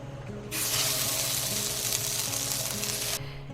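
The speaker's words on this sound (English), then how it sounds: "now I'm going to place all the meat in the electric skillet" Meat hits a very hot electric skillet with a sudden loud, steady sizzle that stays strong for about three seconds before cutting back to quieter kitchen background.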